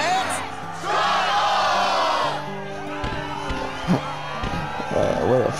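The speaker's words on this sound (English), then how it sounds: "Crowd is fired up, so you know what comes next." A crowd of cheering video-game characters in Kingdom Hearts II whoops and shouts in a loud burst. Then a spoken voice and more scattered calls take over.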